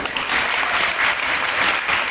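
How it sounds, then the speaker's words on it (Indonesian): A crowd at a regency gathering applauds steadily for the regent, a dense, continuous wash of clapping from many hands heard throughout with no pauses. "tepuk tangan lagi"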